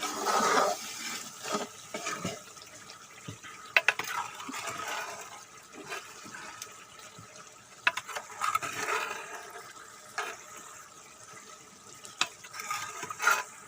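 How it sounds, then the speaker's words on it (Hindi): Keema and dal frying with masala in a pan, a soft continuous sizzle broken by occasional scrapes and stirring knocks, steady and fairly quiet with no voices. "और इसको अच्छी तरह फ्राई करेंगे मसाले के साथ।"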